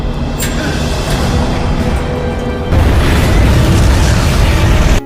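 A deep, rumbling warehouse explosion in a film booms and roars on for several seconds, a dense low roar that swells louder partway through and then holds.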